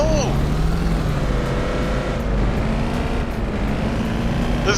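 A Cadillac Escalade driving down a highway in the City Car Driving game; a loud, steady engine drone with rising and falling pitch and rushing road noise, and someone talking briefly at the start.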